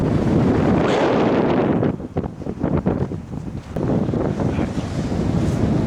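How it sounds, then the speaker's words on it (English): Strong wind of about 50 mph buffets the microphone beside cold water on an 18-degree snowy day, a loud roaring rush that eases briefly mid-way with waves breaking underneath before surging back. "The wind is incredibly strong today."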